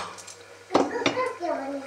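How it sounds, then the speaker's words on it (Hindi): A pressure cooker lid clanks shut on a home kitchen stove while Maggi noodles are cooked, giving two sharp close metallic knocks amid soft kitchen clatter, with faint voices in the background. "हट कुकर तो बंद कर दूँ अच्छे से, बन जाएगी ये"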